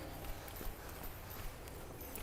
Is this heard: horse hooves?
yes